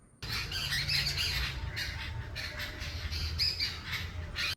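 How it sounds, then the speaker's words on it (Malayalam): Jungle babblers squawk noisily together in a yard, a dense close chorus of harsh repeated calls that starts abruptly and carries on loudly with no talking. "കരിയിലെ കിളിയെല്ലാം കൂടി കിടന്ന് ഭയങ്കര കലവില"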